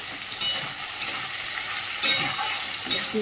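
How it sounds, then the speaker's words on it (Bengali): Potatoes fry in hot oil for a chicken dish, with a constant bright sizzle and a few sharp scraping stir strokes breaking through. No voices are heard. "চিকেনের আলু ভাজাটা বসিয়ে দিয়েছি"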